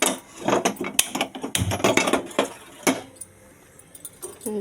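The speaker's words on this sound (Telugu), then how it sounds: "కడాయి అయితే పెట్టుకొని స్టవ్ ఆన్ చేసుకుందాం." A kadai pan being set down on a stove, with a cluster of clattering metal knocks and clinks, fairly close, followed by quieter scraping and one more clank near the end.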